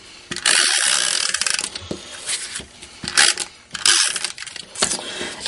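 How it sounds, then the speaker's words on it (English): A tape runner lays adhesive strips onto a paper card front, giving close, dry clicking and rasping bursts in several short passes with pauses between them. "With my trusty tape runner."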